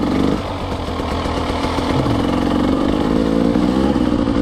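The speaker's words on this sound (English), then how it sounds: "put your bike in second, or first or second. Just get rolling along, pull your clutch in, bounce the bike, pull the front brake in and lean forward." A motorcycle engine running steadily while the rider practises stoppies, a loud continuous mid-pitched drone with a slight dip in pitch partway through, close and without talk.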